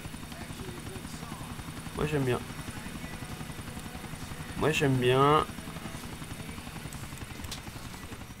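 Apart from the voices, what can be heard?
helicopter in the video game GTA 4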